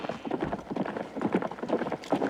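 Hooves of a horse carrying an approaching rider, a muffled irregular clip-clop over outdoor ambience, moderately near and fairly soft.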